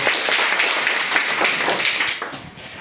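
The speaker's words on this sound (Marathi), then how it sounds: "प्रगतीसाठी सगळ्यांनी टाळ्या वाजवायची" A class of primary schoolchildren at a village school quiz applaud a classmate named Pragati, with dense, steady hand clapping from many small hands filling the room for nearly three seconds.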